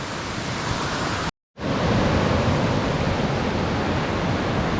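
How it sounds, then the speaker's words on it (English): Raging mountain creek swollen from heavy precipitation on a Colorado fourteener trail, a loud continuous broadband roar of rushing water, briefly cut to silence for a moment before resuming at full strength. "This creek is raging from all the precipitation they got yesterday."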